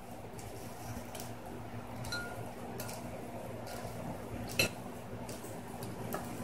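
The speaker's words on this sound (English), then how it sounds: "We have to mix it real good." Faint clinks and soft scraping of utensils against a bowl or plate while brothless instant noodles are stirred, set against a quiet room hum with no talking.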